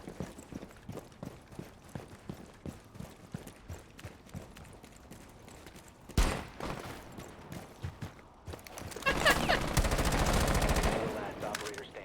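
Gunfire in the Rainbow Six video game: a sudden loud burst of shots near the middle, then a sustained dense volley of rapid automatic fire, over quieter in-game footsteps and movement.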